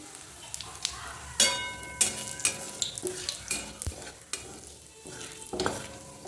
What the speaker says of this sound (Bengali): দেখো একটু গোটা জিরে ফোড়ন দেবো